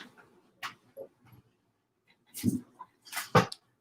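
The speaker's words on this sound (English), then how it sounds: "my dog just decided to come in here" A large dog of about 120 pounds moves around a room with books on the floor, giving scattered snuffles, a sneeze-like burst and faint whimpering noises, close by and in short separate bursts.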